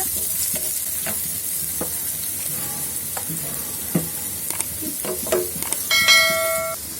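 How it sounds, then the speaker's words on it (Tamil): Small shallots frying in a pan until golden for a country chicken pepper dish, a steady sizzle under repeated spatula scrapes and taps, with a bright metallic ringing near the end. "இப்போ இதோட நம்ம கட் பண்ணி வச்சுருக்கிற சின்ன வெங்காயத்தை போட்டு நல்லா பொன்னிறமாக வதக்கிக்கோங்க"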